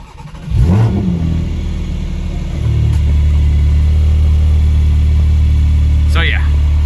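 A Porsche GT4 engine rises in a brief rev, then settles into a loud, steady low drone as the car pulls away; a person speaks briefly near the start.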